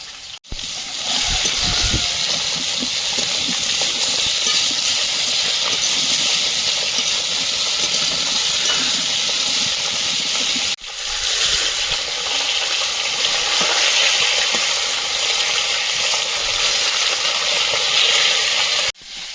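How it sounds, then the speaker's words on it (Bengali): Broccoli and potato frying in a wok as chopped tomato goes in, giving a loud, steady hissing sizzle that breaks off briefly halfway, then resumes at the same level. "ব্রোকলি আর আলুটা ভালোভাবে ভেজে নিয়েছি এবারে টমেটো কুচি দিয়ে"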